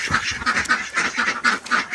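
Ducks quack close by in a rapid, steady series of nasal calls, about eight quacks in quick succession.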